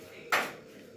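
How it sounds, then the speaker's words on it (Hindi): Metal pots and dishes clatter once in a sharp, bright clank as they are lifted in a home kitchen, the ring fading quickly into quiet room tone. "ये देखो अब मैं इधर से बर्तन उठाती हूँ"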